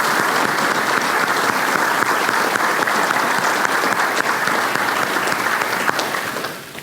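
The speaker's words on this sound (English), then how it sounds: "So please give them a round of applause and thanks for all their support." A large audience at a fire department award ceremony dinner claps steadily for several seconds, the dense applause filling the room before tapering off at the end.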